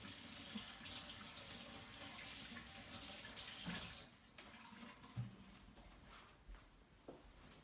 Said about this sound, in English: And rinse off the soap.